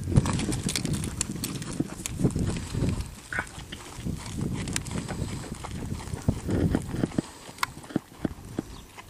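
A ridden horse lopes across the ground, its hooves beating in a steady three-beat rhythm, with wind noise and rhythmic creaks throughout.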